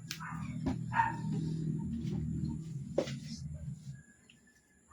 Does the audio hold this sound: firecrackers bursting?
no